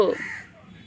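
A pet bird gives a single short, harsh caw-like call that starts loud and quickly fades into quiet.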